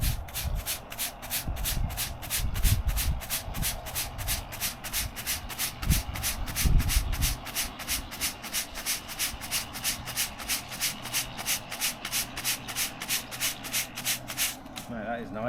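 A broom sweeping sand across a block paved driveway, producing quick rhythmic brushing strokes at close range, with someone talking over the first part of the sweeping.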